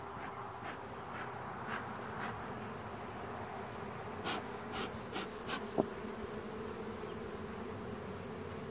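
Honeybees buzz steadily around a hive in a pine-straw setting, a dense continuous drone with individual bees passing close now and then, a faint click near the end.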